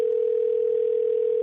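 A steady, unbroken telephone dial tone holds at an even level throughout, heard alone with no voices, while a sales caller waits on the line during a live cold calling session.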